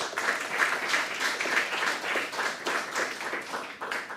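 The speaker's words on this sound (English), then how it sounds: "allow us to please give Daniel and welcome him with a round of applause" A lecture audience at a Harvard Fairbank Center event gives a round of applause to welcome a speaker, with steady, dense clapping filling the hall throughout the few seconds.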